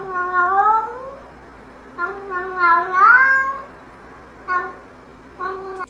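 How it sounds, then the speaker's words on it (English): A recorded upset cat meows in drawn-out, wavering cries: one long yowl, a louder rising caterwaul, then two shorter meows, loud and close over a quiet background. "that cat's not even singing."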